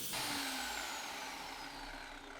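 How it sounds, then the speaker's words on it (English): A table saw whines at high speed while cutting a wooden shelf piece for a towel rack, a loud, steady buzzing rush lasting a couple of seconds with no talk. "So just one simple cut with the table saw here"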